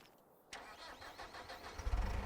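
A small Fendt Farmer 300 tractor engine in Farming Simulator 25 cranks and catches after a quiet moment, then settles into a rough, pulsing mid-pitched idle that grows slightly louder, close by with no talk.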